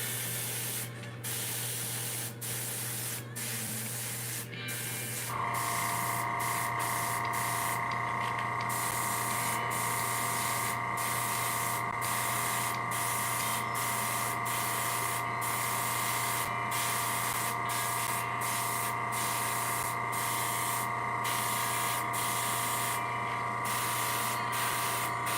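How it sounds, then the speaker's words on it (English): Airbrush hissing paint onto a model Sherman tank, a continuous steady spray that switches on and holds a constant airy hiss for over twenty seconds, close and alone, with brief clicks at the start. "Keep your airbrush moving around."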